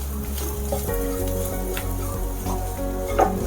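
Ground chili paste is stirred into bitter gourd frying for a masala fry, a loud close sizzle under a low steady hum, with occasional scrapes of the spoon in the pan.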